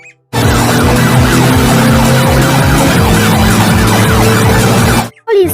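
A toy police car siren wails loudly and steadily in rapid repeating up-and-down sweeps, running continuously before cutting off abruptly near the end.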